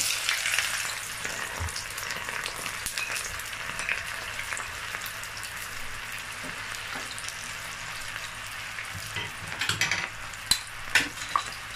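Onion added to hot oil in a pan for a tomato fried sauce, a loud continuous sizzle and frying hiss with occasional stirring clinks and taps near the end.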